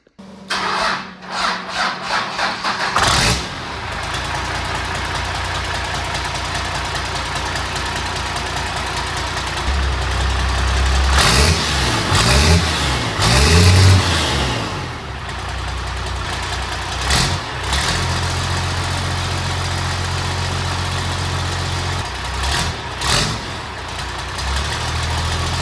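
A built Cummins diesel with a custom 4-inch hoodstack cranks and fires, then settles into a loud, steady, deep idle that rises and falls a little, with no talking.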